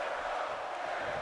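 A wrestling crowd in a WWE 2K18 video game arena in Dublin gives a steady, dense roar of cheering that holds at an even level throughout, with no distinct voices rising out of the wash.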